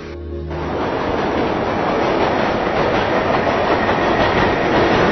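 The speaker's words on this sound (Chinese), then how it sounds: "这是美国的地铁站" A subway train passes through an American subway station, a loud, steady rumble with rattling wheel clatter that swells in the first second and holds throughout, with no voices.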